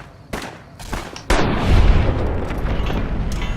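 Gunfire in Fallout: New Vegas: a couple of sharp shots are followed by a heavy booming blast that rumbles on through the rest of the moment, loud and close.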